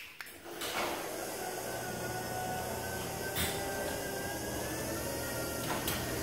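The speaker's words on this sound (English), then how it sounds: "That extra noise you're hearing is coming from the belt squeal." A garage door opener runs with a squealing belt, giving a steady mechanical drone topped by a thin, sustained high-pitched squeal, close and continuous.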